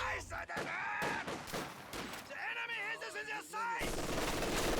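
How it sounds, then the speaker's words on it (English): Machine gun fire in a strategy video game: rapid bursts and crackling shots mixed with other battle noise, under fast, excited commentary. "Now he's just keeping the machine gun in the pressure zone."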